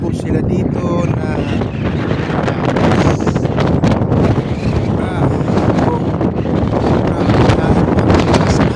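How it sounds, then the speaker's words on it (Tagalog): Strong wind buffets the microphone at Sydney Harbour near the Harbour Bridge, a loud, constant low roar with gusty rustling throughout, and faint voices mixed in underneath. "napakalakas ng hangin."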